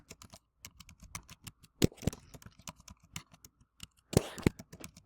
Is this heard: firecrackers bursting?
no